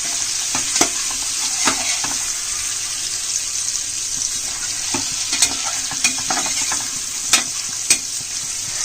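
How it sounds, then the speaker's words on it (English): Around nine eggs marinated with chili powder, turmeric and coriander powder sautéing in a cooker for egg biryani: a steady, close sizzle with scattered clinks and scrapes of stirring throughout, no voices. "Saute the eggs until little fried."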